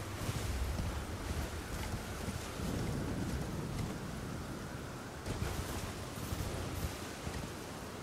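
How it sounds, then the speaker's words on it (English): Wind in the Elden Ring Shadow of the Erdtree video game, a steady whooshing gust with low rumbling swells, continuous and fairly loud, with no voices. "Very windy over here."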